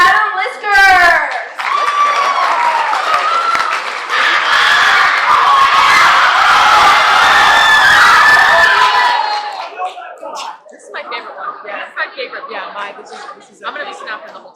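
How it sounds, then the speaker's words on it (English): A poetry slam audience claps, whoops and chatters for the next poet, a loud crowd swell for several seconds that drops away into scattered voices and murmurs. "let's keep that round of applause going for our next poet, Adam Lisker."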